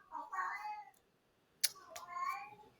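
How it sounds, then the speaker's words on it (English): A house cat meows during an interview, two clear rising meows separated by a short pause with a sharp click between, fairly close and alone without talk. "I have a talking cat."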